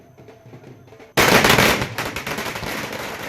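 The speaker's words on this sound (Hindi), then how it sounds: "बीजेपी दफ्तर में भी जमकर आतिशबाजी की गई।" Firecrackers go off at a BJP office celebrating a by-election win in Champawat, Uttarakhand: after a quiet murmur, a sudden loud burst of dense crackling bangs keeps rattling on without a break.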